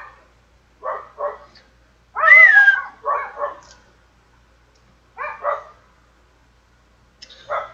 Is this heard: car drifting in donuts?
no